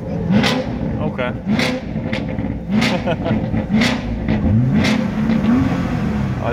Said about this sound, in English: Let's rev this one more time.